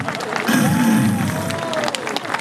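Audience applause and crowd noise welcoming a tenor-baritone singer onto a stage before he performs the Toreador Song, steady clapping mixed with voices and a sustained tone throughout.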